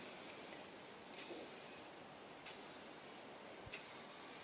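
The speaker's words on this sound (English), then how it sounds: "Painting the stove." Spray paint hissing onto a wood burning stove in short bursts, four or five steady aerosol jets of about a second each separated by brief pauses, close and fairly quiet.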